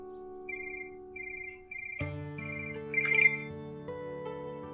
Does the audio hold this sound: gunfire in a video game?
no